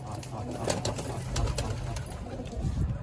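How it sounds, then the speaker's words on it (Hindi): A pigeon on a house rooftop coos in soft repeated calls amid a busy, noisy outdoor background with clicking and rustling. "अभी देख सकते हो एक कबूतर आके उतरा हुआ है छत पर"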